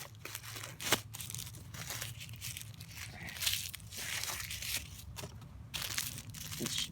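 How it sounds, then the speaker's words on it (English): Small plastic-wrapped pieces of a Kingdom Hearts 3 Bring Arts Sora action figure are unwrapped up close, giving quiet, irregular crinkling and crackling bursts with occasional sharper rustles and no talking. "I'm just unwrapping the little pieces."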